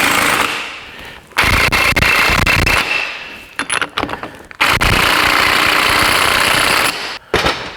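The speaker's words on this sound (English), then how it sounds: "we've got to rattle up this nut, which will make it really tight, probably to the point where it won't be able to spin" Impact wrench rattling a nut tight on a new differential for a Nissan Patrol, loud and close in two long hammering bursts separated by brief pauses and a few short stabs.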